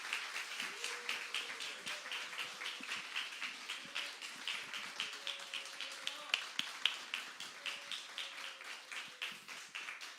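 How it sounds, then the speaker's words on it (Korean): A church congregation claps to welcome the pastor, a fairly faint, steady stream of rhythmic claps with a voice sounding over it. "우리 목사님 나오실 때 격려와 위로와 환영의 박수로 환영해 주면 감사하겠습니다."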